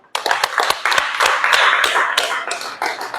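A church congregation bursts into hand clapping during a worship service, a dense, loud patter of many hands that starts abruptly and carries on steadily with scattered sharper claps.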